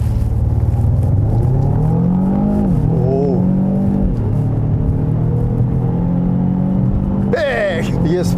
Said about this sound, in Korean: 자, 일단 급가속부터 한번 해보도록 하겠습니다.